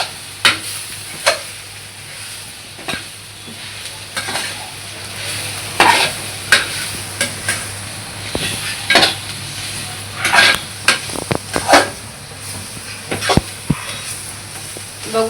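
Masala roasting and being stirred in a pan for stuffed bitter gourd, with repeated scraping and clinking strokes over a steady low sizzle, close and fairly loud.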